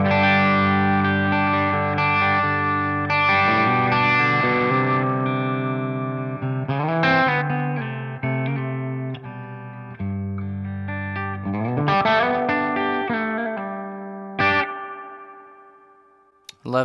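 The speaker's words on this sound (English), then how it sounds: "This is the 60s spring reverb." An electric guitar played through a Strymon Flint pedal set to 60s spring reverb rings out in sustained chords and single notes, each trailing off in a lush, splashy reverb tail, loud and close throughout.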